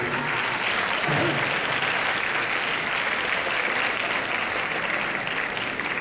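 An audience at an education lecture breaks into sustained applause, a thick, continuous patter of many hands that holds at a steady, strong level with no voices rising above it.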